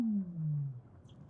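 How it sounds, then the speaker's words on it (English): Weddell seal call under Antarctic ice, a single loud descending tonal whistle-moan lasting under a second, followed by a faint high chirp. "They're actually the calls of Weddell seals."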